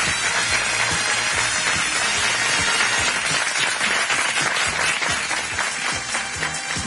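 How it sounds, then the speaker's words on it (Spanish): Audience applause greets Miss Universe Venezuela 2021 at a pageant, a dense, steady wash of clapping that fills the hall, fairly far off and continuous, with cheering mixed in. "recibamos con un fuerte aplauso a Miss Universo Venezuela 2021, Luisette Matelán."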